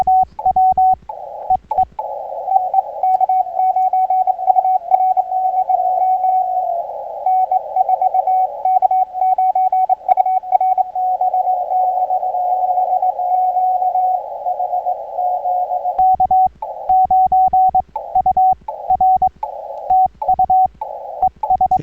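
A steady CW Morse code tone keys in long runs on an amateur radio during a Parks on the Air activation at Victoria Springs State Recreation Area. The pitched beeps are loud and continuous, with brief breaks of choppy static.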